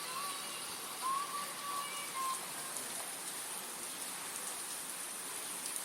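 Rain falling steadily on a rainy day, a constant soft hiss of drops on surfaces at moderate distance, faint and even throughout with no talking.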